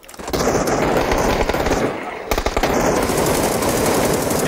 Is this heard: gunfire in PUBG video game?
yes